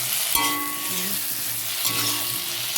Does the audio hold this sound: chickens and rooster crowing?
no